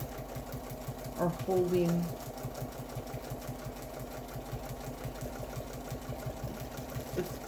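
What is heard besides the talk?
domestic sewing machine quilting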